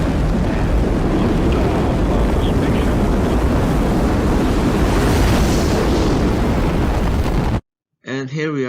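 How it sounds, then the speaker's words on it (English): Space shuttle launch with solid rocket boosters firing, a loud, dense, crackling roar with a deep rumble that continues steadily for several seconds before cutting off abruptly, followed briefly by a speaking voice. "Then light the two solid rocket boosters,"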